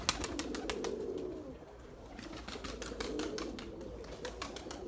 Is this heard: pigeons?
yes